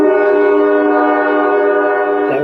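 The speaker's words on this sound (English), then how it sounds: "trains in my backyard." A train behind a house sounds a long, loud, steady horn blast that holds for over two seconds, close and dominant.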